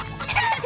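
Short burst of chicken clucking in a children's program break, a quick rising cluck over a soft background.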